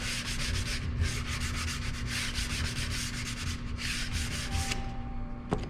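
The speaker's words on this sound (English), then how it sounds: "is just sand this a little bit." Hand sanding a wooden cabinet door with a 180-grit sanding block, a close, steady back-and-forth rasping in quick rhythmic strokes, pausing briefly before a final short burst.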